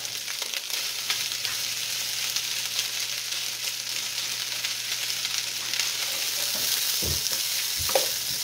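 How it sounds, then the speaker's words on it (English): Steady, dense sizzling of pork fried rice frying in a hot pan, with occasional scrapes and clinks of stirring near the end. "This is the pork fried rice, but I'm not frying up all the rice, Misha."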